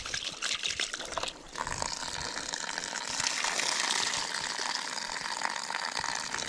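Water poured out for a rinse while fishing on a farm, a steady near splashing and gushing stream that runs continuously with a brief dip early on, with no talk over it.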